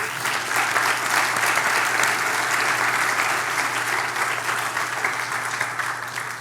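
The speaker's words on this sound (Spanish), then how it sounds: "¿Alguien le puede dar un aplauso al Señor?" A church congregation at a worship service gives a sustained round of clapping, a thick, even wash of applause that runs for about six seconds and fades a little at the end.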